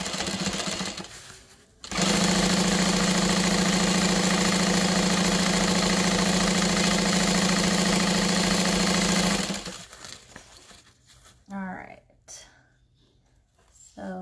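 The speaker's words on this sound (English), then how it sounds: "we're going to use a 5/8 of an inch seam allowance and sew across, starting and stopping at the lines we made" A sewing machine stitching a 5/8-inch seam across a tote bag, one loud, steady mechanical whirr running unbroken for about eight seconds before stopping, followed by quieter handling sounds and brief speech.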